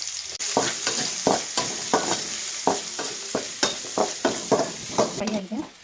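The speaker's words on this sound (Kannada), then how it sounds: "1 ಈರುಳ್ಳಿ ಹಾಕ್ತಾಯಿದ್ದೀನಿ." Chopped onion with mustard seeds frying in a pan for a lentil and greens dish, a steady close sizzle broken by regular scraping strokes of a spoon stirring, no talking.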